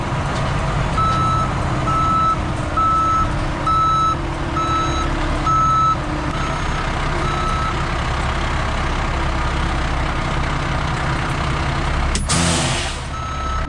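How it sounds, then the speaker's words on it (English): Backup alarm on an excavating contractor's truck beeping steadily in a repeating pattern over a loud engine rumble, close by, with a sharp air brake hiss near the end. "Back up all the way here, get this truck out of the way."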